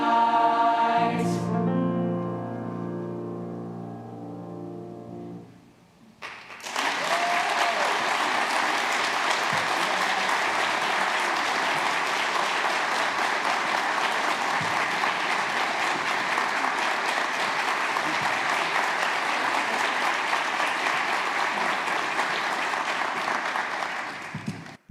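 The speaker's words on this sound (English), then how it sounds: "So another huge round of applause." At a spring 2021 middle school concert, a sustained musical chord fades out, then a brief pause gives way to loud, continuous audience applause lasting nearly twenty seconds.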